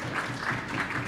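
Spectators clapping at a professional pool match, a steady patter of applause with a faint rhythmic pulse, moderately quiet and unaccompanied by talk for about a second.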